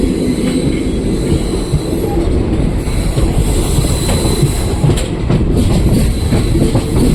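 Steady loud rumble of a train in motion pulling into a railway station, with rattling wheels and faint clatter, continuous throughout with no voices.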